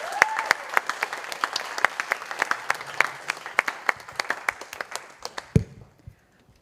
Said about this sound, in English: Can we get one last round of applause for Brother Kason?